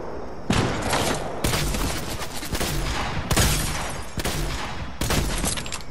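Rapid shotgun blasts in Fortnite combat, several loud, broadband bursts landing about once a second, each tail overlapping the next so the shooting runs almost continuously.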